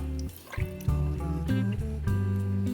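Water pours into a pot of chana for cooking, splashing and gurgling in uneven bursts with a rising, filling tone, close and fairly loud with no talk.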